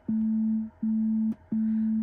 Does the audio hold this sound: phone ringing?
yes